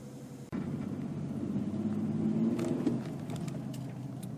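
A Ford Explorer pulls off and drives along a dry road, a low steady engine and tyre rumble heard from inside the cabin, with a faint click and light rattles partway through.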